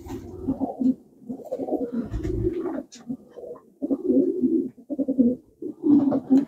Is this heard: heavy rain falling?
no